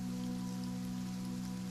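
Steady, soft rain falling without a break, a quiet ambient wash with a low constant hum beneath it, used as a calming sleep-story backdrop.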